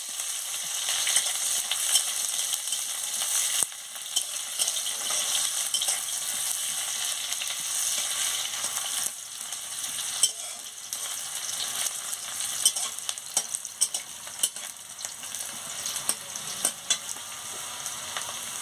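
Chopped onions frying in a pan with a bay leaf, a steady close sizzle of hot oil broken by scattered scraping clicks of a spatula stirring them, with no talking.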